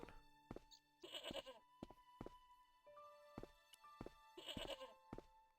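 Goat in the video game Broken Sword bleating twice in quick nasal cries, set among sharp thuds of footsteps and faint game tones, with no talking.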